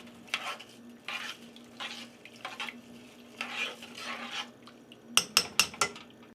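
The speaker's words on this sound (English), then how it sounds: "Let me stir that up a little bit." Rice and red beans for Cajun red beans and rice being stirred in a pot: soft scraping strokes in a slow, even rhythm, ending in a few sharp clinks of the spoon against the rim.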